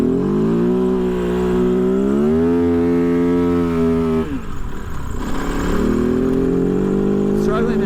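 A 2023 Kove FSE 450R rally motorcycle labouring in fourth gear off-road, its engine drone close and loud, pitch climbing and holding, then sagging briefly before pulling back up.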